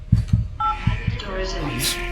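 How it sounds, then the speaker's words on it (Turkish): An in-game alarm in a Minecraft zombie apocalypse map sounds as a series of short electronic beeps followed by a sustained wavering tone, with a person talking over it. "Ay, alarm çalıyor."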